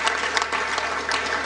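Applause from a forum audience in Skopje, a steady wash of many hands clapping at moderate loudness for a brief moment, with no voices over it.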